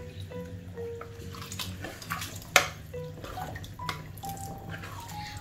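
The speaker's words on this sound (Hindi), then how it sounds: "अब हम इसमें तकरीबन 1 लीटर पानी डालते हैं।" About a litre of water is poured into a mutton and vegetable muthia mixture in a home kitchen, a faint steady splashing and trickling with a few drips and clinks, no talking.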